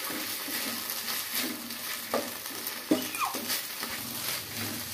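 Drumstick leaves sauté in a pan with a soft, low sizzle, broken by a few stirring scrapes and clinks of a spoon, close and fairly quiet.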